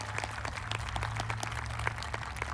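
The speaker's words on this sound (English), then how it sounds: "Please give them a round of applause for investing in your children for the last 4 years so they could be here" Scattered applause from a graduation audience honoring school teachers and staff, a steady patter of claps at moderate level with a low hum underneath, no talking.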